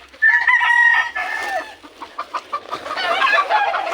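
Backyard chickens close by, a loud drawn-out crowing call followed by a run of rhythmic clucks and more squawky calls.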